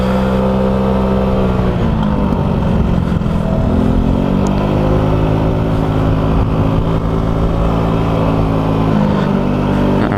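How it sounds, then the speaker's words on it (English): A motorcycle ridden slowly around cones on a CBT training course: a loud, close engine drone that rises and falls in pitch as the throttle is eased on and off through the turns, steady for the whole stretch. "They just want you to ride round these cones, well, the light post, which is the cones, 3 times."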